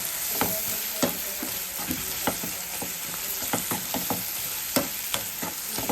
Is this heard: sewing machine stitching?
no